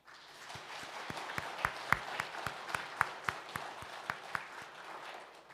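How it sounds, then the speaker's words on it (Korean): A church congregation claps for the praise team at a Sunday service, a sparse, quick rhythmic clapping with evenly spaced sharp hand claps standing out from a softer background patter. "우리 큰 박수로 은혜 나누시면 좋겠습니다."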